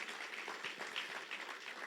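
Faint, steady applause from a church congregation, a soft continuous wash of clapping heard from a distance.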